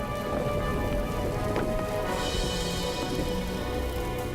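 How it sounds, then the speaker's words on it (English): Steady dense crackling and pattering of superheated rocks raining down like a heavy burning hail, continuous and loud, with a low rumble underneath. "Superheated rocks shower the valley in a burning hail."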